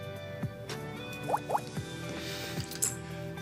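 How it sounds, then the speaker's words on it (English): Food coloring stirred around in a container of water, giving wet sloshing and dripping plops at irregular intervals, close and fairly quiet. "if I were to stir it around a bit, look how it's totally changing the color of the water."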